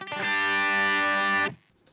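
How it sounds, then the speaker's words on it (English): An electric guitar with heavy distortion rings out two low notes struck together, a thick buzzing tone held steady for about a second and a half before cutting off abruptly into near silence. "I just twanged on these two notes here at the bottom."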